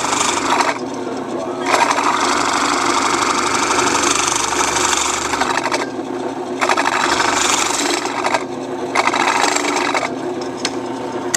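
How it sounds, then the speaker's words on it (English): Belt sander grinding against a piece of wood clamped in a vise, a loud continuous motor whine with abrasive rasping that swells and eases in several passes over about eleven seconds. "Sand the wood on the belt."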